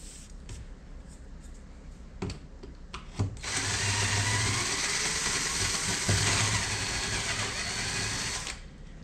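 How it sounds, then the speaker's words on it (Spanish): A power drill bores into furniture material, working a shallow hole for a high-strength assembly screw; a few light knocks come first, then the drill runs loud and steady for about five seconds with a slight wavering pitch before stopping. "Pues ahí tenemos el taladro."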